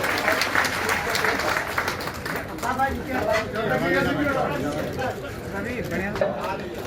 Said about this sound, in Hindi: माननीय प्रदेश अध्यक्ष जी, आप जोरदार ताली से हम सब लोग स्वागत करेंगे।